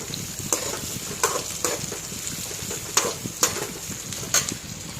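Bitter gourd and cluster beans sizzle and crackle in hot oil with salt, turmeric, chili powder and asafoetida, with a few scraping stirs of a utensil, close up and fairly quiet.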